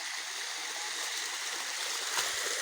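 A creek flows in a continuous soft rush of water, an even hiss with faint trickles and a small splash near the end, heard up close with no voices.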